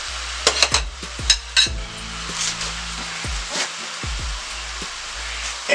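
Seared pork chops and their juices go back into a hot skillet, bringing a steady sizzle and frying hiss punctuated by several sharp clinks and knocks of utensils against the pan.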